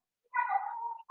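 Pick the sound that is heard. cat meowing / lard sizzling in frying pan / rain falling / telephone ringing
cat meowing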